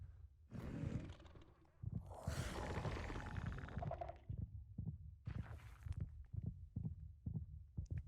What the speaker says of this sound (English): That heartbeat is unnerving.